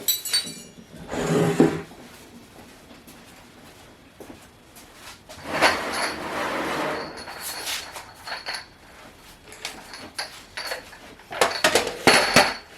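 Sanitized containers for homemade emulsified body butter are taken out and set down, giving scattered clinks and knocks in a few bursts with quieter shuffling between them, close by and with no talking.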